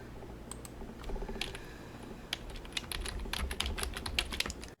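Rapid clicking keystrokes on a computer keyboard, typed in uneven bursts close by, ending with a firmer key press.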